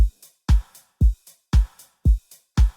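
A deep house drum loop with rim shot, ride and hi-hats, where punchy low kicks land on a steady four-on-the-floor pulse about every half second and soft ticking hats fall in between, clean and alone without talk.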